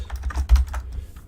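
Rapid typing on a computer keyboard, a quick run of close, crisp key clicks with one heavier keystroke midway, no voices.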